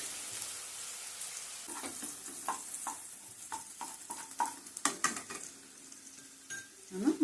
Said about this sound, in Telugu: ఈసారి మనం మసాలా కూడా వేసుకుని వేపుకుందాం.